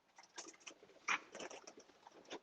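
Young racing pigeons coo and flutter softly inside a loft, with several short, fairly close calls scattered over a couple of seconds and one brief louder burst near the middle.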